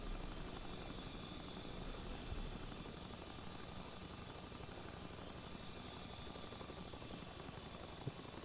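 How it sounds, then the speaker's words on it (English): Helicopter flying in the video game The Front, a steady whirring rotor and engine drone that holds evenly throughout at moderate distance, with no talk. "So difficult to see when the chopper moves so quickly like that"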